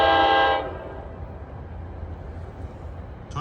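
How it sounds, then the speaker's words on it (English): A New Jersey Transit train, number 1118 from Suffern to Hoboken, gives a loud half-second horn blast, then a steady low rumble as the train rolls past a road crossing. "This is train 1118 from Suffern to Hoboken."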